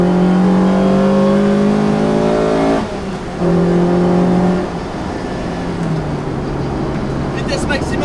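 Lotus Exige S1 sports car accelerating hard, a loud, close engine note climbing in pitch through gears with a brief dip at a shift, then settling into a steady drone.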